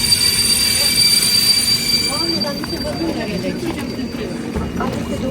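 Inside a moving train carriage, a steady, loud rumble of wheels on rails runs throughout, with thin high wheel squeals and murmuring voices beneath.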